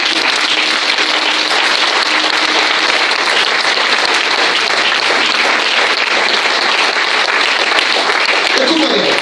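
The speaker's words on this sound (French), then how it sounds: "Acclame très fort Jésus." A church congregation claps loudly and steadily for Jesus during a sermon, a dense continuous wash of applause filling the whole stretch, with voices faintly mixed in.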